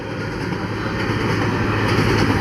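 A grain train with a DPU locomotive rolls past in the Snake River Canyon near Eureka, Washington, a loud, steady close rumble of wagons with faint rhythmic wheel clatter.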